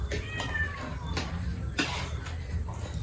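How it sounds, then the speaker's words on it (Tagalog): Cats meowing in a household: a few thin, rising meows over a steady low rumble of background noise, moderately close and fairly soft, with no clear talking. "Kulit na mga pusa namin."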